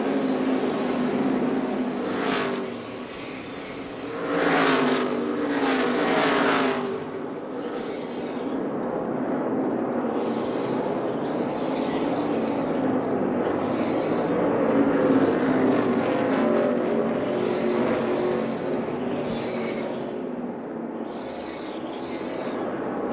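NASCAR stock cars roar past on the track at the 2013 Subway Fresh Fit 500, a loud rising and falling engine whine sweeping by in repeated passes, with a few sharper bursts early on.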